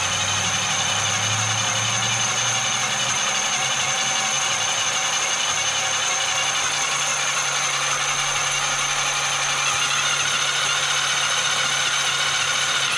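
A Traxxas X-Maxx RC monster truck running after battery and cush-drive repairs, a continuous steady electric motor and drivetrain whine with a bright high-pitched hum, close and loud throughout with no talking.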